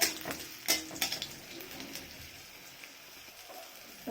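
Nigella seeds hit a hot pan with dried chilli while mustard greens mash is being made, giving a soft crackling sizzle with a few sharp clicks of a utensil near the start, no voices.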